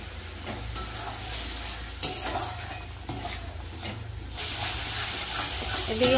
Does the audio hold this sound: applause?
no